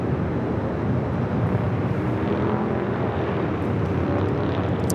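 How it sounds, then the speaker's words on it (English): A Cathay Pacific Boeing 777-300ER airliner pushes back from the gate at LAX, a steady broadband jet engine roar and rumble holding level throughout with no talk. "Cathay Pacific Flight 885 777-300ER heading to Hong Kong, now pushing back from the gates"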